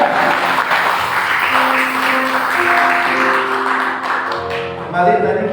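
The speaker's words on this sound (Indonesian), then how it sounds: "Tepuk tangan sekali lagi, dan lebih lagi." Church congregation applauding at a year-end Sunday service, a sustained wash of clapping that fills the room, with a voice speaking over it throughout.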